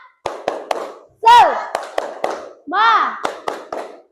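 Children in a sixth-grade classroom do a rhythmic group clapping cheer in the morning: sharp, evenly spaced claps mixed with loud chanted shouts, close and lively.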